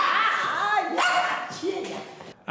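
Small dogs yip and bark in short excited bursts, close by, with whimpering tones mixed in across a couple of seconds.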